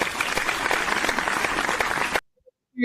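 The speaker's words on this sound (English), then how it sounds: "The crowd is going wild at training camp." A crowd at a Denver Broncos football training camp claps and cheers in a dense, steady burst of applause that cuts off abruptly into silence.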